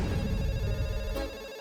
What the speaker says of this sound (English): you just hear any phone ring now